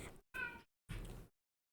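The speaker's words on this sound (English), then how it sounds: "that was my cat boo boo." A pet cat named Boo Boo meows twice indoors, two short close calls separated by a brief silence, with a faint sound before the first.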